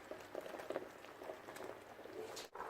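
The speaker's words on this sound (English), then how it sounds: "It's bubbling away nicely" Lemongrass coconut curry bubbling in a pot, a soft steady simmer of small pops and gurgles, fairly quiet and close, with no voices over it.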